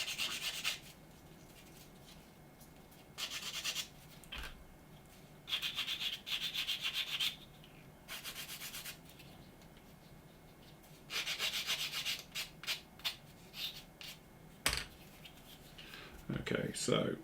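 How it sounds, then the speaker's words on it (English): Quick rubbing on a plastic part from a Revell 1/53 scale AT-AT model kit, heard as several short bursts of dry scratchy friction with pauses between them, close and fairly faint, with a person talking at times. "Quick rub."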